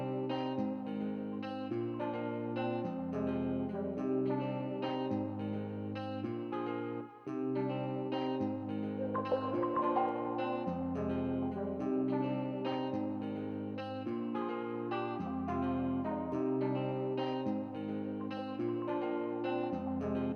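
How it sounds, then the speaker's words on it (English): Guitar in an Afrobeats track built in FL Studio, steady plucked melodic pattern washed in plate reverb, with a brief dropout partway through before the loop resumes. "we are going to add some reverb"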